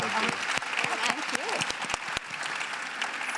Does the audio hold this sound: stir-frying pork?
no